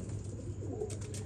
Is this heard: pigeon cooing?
yes